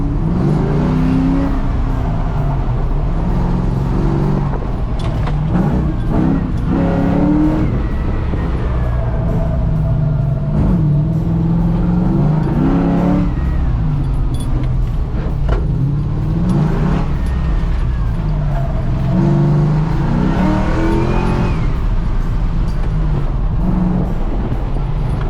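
Restomod pickup truck on TCI coil-over suspension being driven hard, engine revving and rising through accelerations with tire and road noise, heard from inside the cab, loud and continuous.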